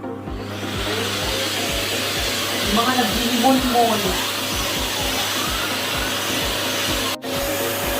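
A Polti Unico steam vacuum cleaner runs with a steady, even whir throughout, briefly cutting out near the end, while a person talks over it.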